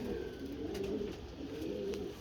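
Soft, repeated cooing of a pigeon, low and throaty, rolling on steadily in a couple of phrases close by with faint background hiss.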